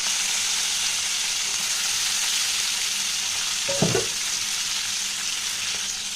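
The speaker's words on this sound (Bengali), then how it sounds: "তো গ্যাসে বসিয়েছি কড়া, আর ওতে দিয়েছি একটু তেল। মাছগুলো ভেজে নেব।" Rohu fish pieces fry in oil in a pan on a gas stove, giving a steady, close sizzling hiss throughout with one brief louder sputter near the middle.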